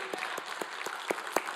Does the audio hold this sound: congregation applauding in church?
yes